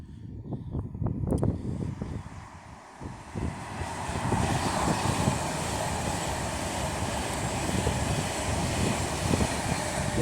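An Avanti West Coast Class 390 train from Glasgow Central to London Euston passes through Rugby on the West Coast Main Line. Its broad, steady roar swells after a few seconds and holds loud and even, with no talking.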